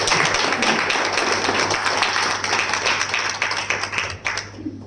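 A burst of applause from a crowd, dense clapping that holds for several seconds and then thins out toward the end.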